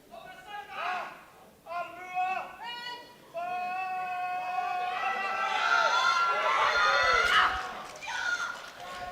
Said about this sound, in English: Very excited crowd for this lift.